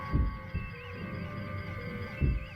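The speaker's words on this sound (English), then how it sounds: "That's a heartbeat." Heartbeat sound effect from a Star Trek Continues episode, two low thumping pulses at the start and one at the end over a steady electronic hum and sustained tones, moderately loud with no speech.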